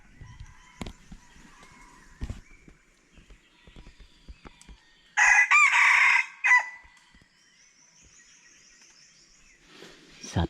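Chickens cluck softly in scattered spurts, and then a rooster crows loudly and close by in one long cock-a-doodle-doo, followed by a brief final squawk.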